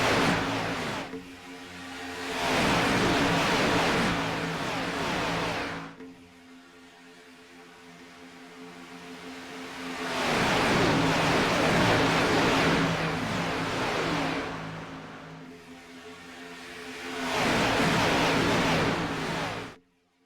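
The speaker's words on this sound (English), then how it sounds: "Let's just take a listen to these engines and watch these cars go by for a second." Xfinity stock cars race past at Daytona in repeated waves, each engine roar swelling loud as the pack passes and then fading, three big passes with a steady rumble between them.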